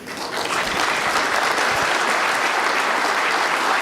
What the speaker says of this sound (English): And the crowd acknowledging that good effort.